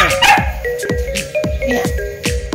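A pet dog barks in a series of about six sharp, loud, close yips at a quick, fairly regular pace, with some whiny tones between barks.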